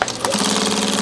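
A sewing machine runs a short burst of rapid stitching while back tacking a seam on a handmade backpack, a close, steady mechanical chatter lasting about a second.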